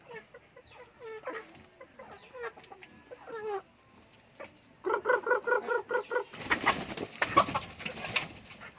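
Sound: chickens clucking

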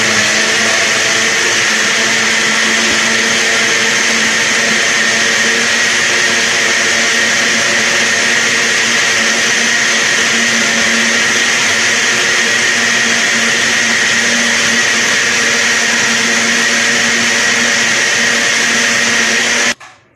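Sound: blender mixing sugar and oil for apple tart

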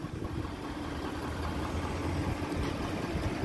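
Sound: diesel engine of a 2020 Ford F350 Platinum pickup idling

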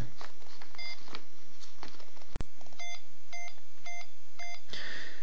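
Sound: beeping of a DIY assistant device for the visually impaired

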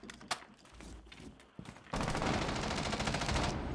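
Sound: gunfire in Rainbow Six Siege video game

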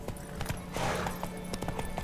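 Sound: horse hooves in The Witcher 3 video game

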